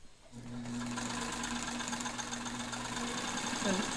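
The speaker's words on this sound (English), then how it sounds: "I've been doing some sewing on this material, and it seems to flow under the foot just fine." A Singer 185K sewing machine stitches material in a steady, fast mechanical whir with a rhythmic knocking hum, starting after a brief pause and running close and loud throughout.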